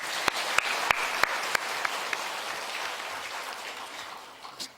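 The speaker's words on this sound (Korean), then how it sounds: "우리 박수 한번 더 해드릴까요?" A church congregation applauding its combined choir after a hymn, a steady wash of many hands clapping with a few sharper claps near the start, fading gradually toward the end.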